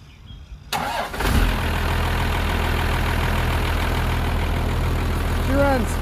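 A 1975 International truck with a 12-valve engine swap cranks and fires up, catching after a brief crank and settling into a loud, steady diesel idle close by.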